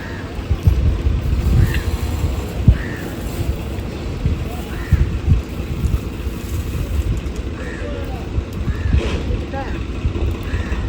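Wind buffets the microphone outdoors at a temple with loud, gusty rumbling that rises and falls throughout, while people talk faintly beneath it.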